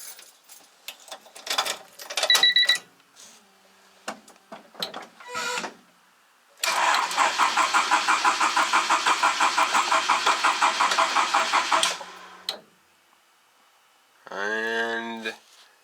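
A Honda Civic EG hatchback engine cranks with a fast, loud, even starter whir for about five seconds, then cuts off without catching; brief clicks and knocks come before it and a short rising whine follows, with no talking.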